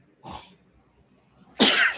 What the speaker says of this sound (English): I'm about to start sneezing.